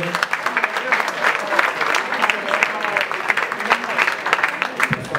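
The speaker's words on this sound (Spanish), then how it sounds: "Pido un aplauso para él, por favor." Dense applause from an audience at a pop band contest's jury decision fills the whole stretch, steady and close, with some voices and cheers mixed into the clapping.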